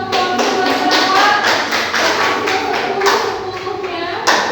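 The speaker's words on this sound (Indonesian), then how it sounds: "Tepuk tangan untuk kelompok Sumatera" A classroom of students applauds a presenting student group. The clapping is loud, dense and continuous for a few seconds, with some voices mixed in.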